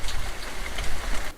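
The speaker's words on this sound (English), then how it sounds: "it's raining again, as promised and as forecast." Steady rain falls outside beside a courtyard under renovation, making a constant close hiss and patter with no voices.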